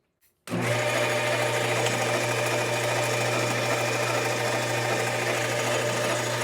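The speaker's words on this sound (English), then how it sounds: "I'm going to turn this down, and then I'm going to re-knurl it, do it the right way." A metal lathe turning down a workpiece on auto feed starts abruptly after a brief tap, then runs as a steady, loud mechanical whir with a constant low hum and gritty cutting noise, close by and without talk.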